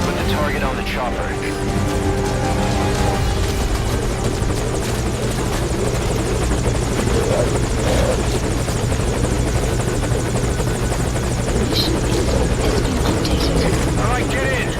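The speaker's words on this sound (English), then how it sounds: "Put the target on the chopper." A helicopter in Metal Gear Solid V: Ground Zeroes thunders steadily and close throughout, with dense rotor chop and engine roar that stay loud the whole time.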